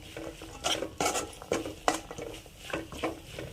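Boiled chana tossed with masala in a pan, a spoon scraping and stirring in quick irregular strokes with soft sizzling and patter of the food between them, close and fairly quiet.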